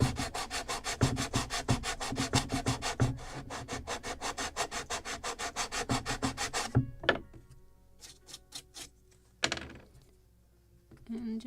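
Rapid rhythmic sanding strokes on the wooden hull of a 1776 gunboat Philadelphia model kit, loud and steady for about seven seconds, then a few scattered scrapes and knocks.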